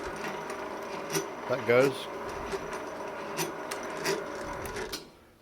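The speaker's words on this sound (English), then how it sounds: "I'll turn it on. I haven't got the bolt in that, but it spins, does the things." Small lathe motor switched on and spinning without its bolt fitted, a steady whirring hum with a rhythmic mechanical tick, under brief speech, cutting off at the end.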